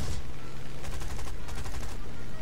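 Machine gun fire from a Spitfire Mk IIb in the War Thunder video game, heard as dense, rapid bursts of gunfire that go on steadily for a couple of seconds at close range, with no talk over it.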